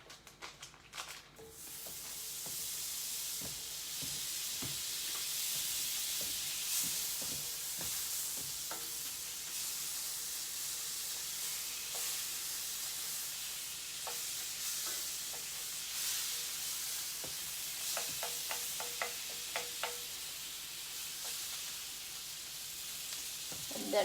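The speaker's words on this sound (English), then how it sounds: "in the same pan, we're going to melt a 1/4 cup of butter, which is about half a stick" A quarter cup of butter sizzles and hisses steadily in a pan on low heat, with faint occasional clinks and stirring taps over the continuous frying noise and no talking.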